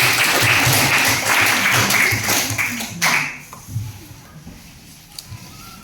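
Classroom of junior high school students clapping hands together in a burst of applause that fades after about three seconds, with faint voices and rustling continuing underneath.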